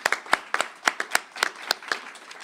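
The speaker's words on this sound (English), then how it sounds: "Another round of applause for her," A few pairs of hands clap at an event introducing a new university system president, sparse, distinct sharp claps at an uneven rhythm, close and fairly loud, with no talking.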